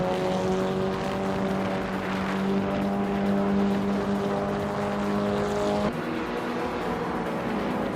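Race cars in a racing video game drone with steady, overlapping engine tones at high revs, holding a sustained pitch that drops sharply near the end as the cars shift or pass.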